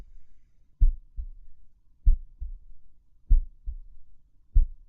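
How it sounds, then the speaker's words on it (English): Deep, muffled heartbeat thuds in a steady paired lub-dub rhythm, four beats about a second apart, alone in quiet. "is that a heartbeat?"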